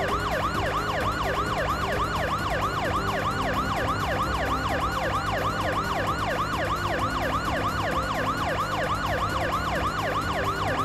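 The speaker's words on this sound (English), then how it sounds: "we got the sirens blaring" Sirens wailing on the New York streets in the game Parasite Eve, several overlapping rising-and-falling tones cycling rapidly and continuously, loud and close, over a low rumbling traffic bed.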